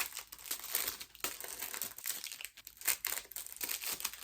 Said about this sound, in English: now that there's not an annoying crinkling in my ear